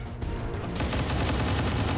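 Dense, sustained suppressive gunfire in the strategy game XCOM 2 Long War 2, a loud rapid rattle of shots that starts quietly and swells into a continuous barrage for the rest of the moment.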